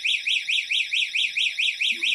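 A loud electronic parking alarm from a Coban 303G motorcycle GPS tracker warbles in a steady rising-and-falling siren pattern, repeating about ten times in quick rhythm, close by and uninterrupted.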